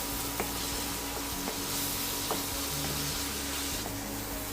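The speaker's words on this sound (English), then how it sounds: "just scrape it using the spatula and keep mixing it in the remaining masala" A spatula scrapes and stirs sizzling masala in a pan, with repeated rhythmic scrapes over steady frying hiss, close and without talk.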